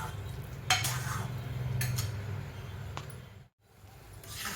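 Sweet potato pieces sauté in a pan, with a low sizzle under intermittent scrapes and clinks of a utensil stirring against the metal, close and fairly quiet, with a brief silent break.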